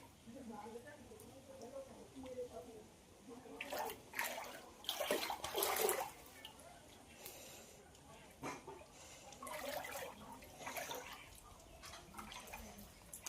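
Water runs and splashes in a home fish breeding setup, a soft continuous trickle broken by louder bursts of pouring, with a voice talking quietly over it.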